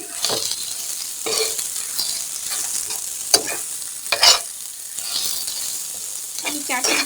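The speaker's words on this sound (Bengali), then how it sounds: "এবার এগুলো আমি ভালোভাবে মিক্স করে নিই।" Spices and potato filling are stirred in a pan, with a spoon scraping and clinking in repeated strokes over a constant sizzle, close and fairly loud, with no talking.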